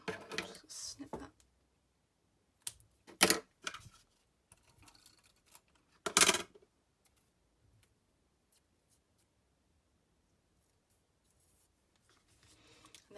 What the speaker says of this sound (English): just snip that